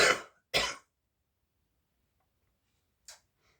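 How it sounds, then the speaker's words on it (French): A woman coughs twice in quick succession, close and fairly loud, followed by a faint short throat sound in an otherwise quiet room. "Pardon, je vais tousser."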